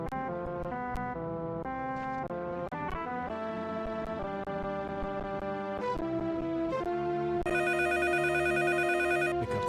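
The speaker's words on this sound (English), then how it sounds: "Pick up the phone." A telephone rings in the video game Mizzurna Falls, steady electronic ringing tones repeating loudly over game music with no talk.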